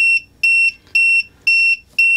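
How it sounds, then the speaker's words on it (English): An RV tire pressure monitor alarm beeping as its tire set point is crossed: five loud, evenly spaced double electronic beeps, each a pair of short tones, with nothing else heard. "you have an alarm that will go off"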